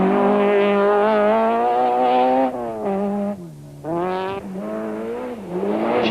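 Front-wheel-drive rally car blasting through a Mountain Trail stage in 1991, engine loud and close, revving high and holding pitch, then dipping briefly on a lift or shift before climbing again, with tire scrabble and no voices.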